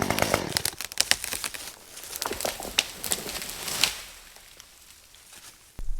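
A small top-handle arborist chainsaw bites into a dead spruce in the woods, a burst of rough revving chatter for a few seconds that drops away to a quiet outdoor background, with a short sharp knock at the end.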